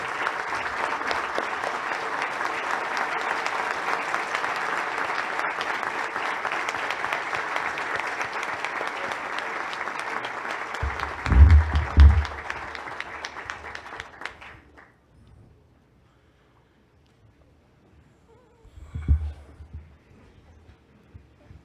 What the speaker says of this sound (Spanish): les pido que nos pongamos de pie para decirle con un gran aplauso a Lidia